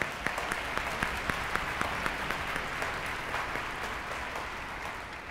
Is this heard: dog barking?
no